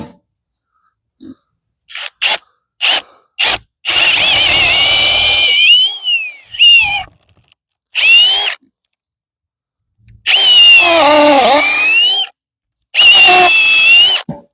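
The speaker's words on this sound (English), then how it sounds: "same thing, I'm gonna pre-drill it." A power drill pre-drilling a hole while installing a gate on a hog lot, whirring in several bursts, short starts followed by longer runs of a couple of seconds, its pitch dipping under load, with clicks between.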